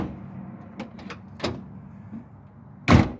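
Lift gate on a 2002 Ford Windstar minivan being opened and closed by its handle after a handle assembly replacement, giving a few soft latch clicks and then a loud close thud near the end, with no talk.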